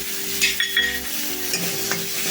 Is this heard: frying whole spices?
yes